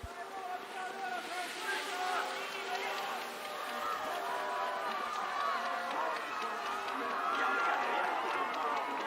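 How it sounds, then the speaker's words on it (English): Crowd noise from spectators at a Nordic combined ski race in Lahti, Finland, a steady, fairly distant roar of cheering under a commentator's continuous talk. "Listen to the crowd cheering on their heroes, but appreciating everybody."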